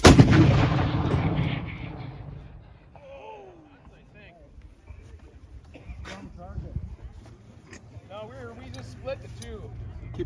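A Civil War Parrott rifle cannon fires with a single heavy boom at the start, then a long rumbling decay. Voices of the crew and onlookers follow in the background.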